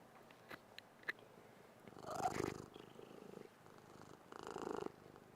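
A cat purrs close by in two soft, rumbling bursts separated by quiet, with a few faint clicks before the first.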